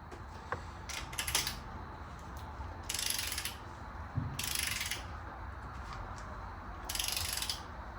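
A ratchet wrench with a 21 mm socket works a head stud on an 850 hp engine, rapid clicking bursts repeating in several close, distinct pulls with short gaps between them.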